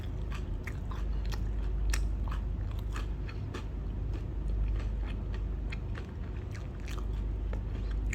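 Someone bites and chews a crunchy fried corn snack dipped in sauce while travelling in Myanmar, close and crisp, with repeated sharp crunches over a low steady background and no talk.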